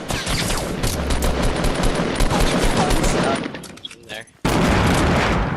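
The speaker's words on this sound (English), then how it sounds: "Let me toss some C4 down there" Thrown C4 charges and gunfire in a Fortnite squad match at a quarry, dense loud bursts and blasts running together, then a short lull and a sudden fresh explosion, with a brief spoken remark.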